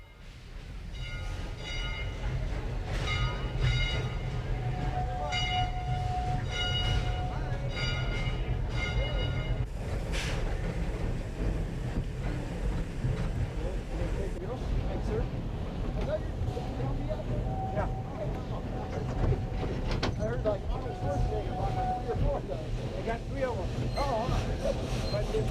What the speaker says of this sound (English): The chuffing sounds from our geared steam locomotive turn into a steady roar as we start up the grade.